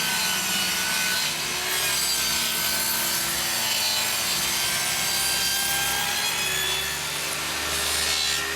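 A hand saw cuts through a wooden tongue-and-groove roof board, trimming off the grooved edge with continuous, loud rasping strokes at close range and no talking.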